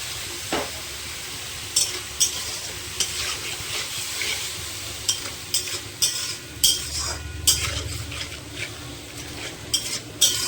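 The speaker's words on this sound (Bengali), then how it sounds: "মশলাটা একটু কষাতে থাকবো।" Spice paste of cumin powder and water fries in a pan for a Bengali raw fish curry, with a close, continuous sizzle and repeated sharp scraping stir strokes. No one speaks.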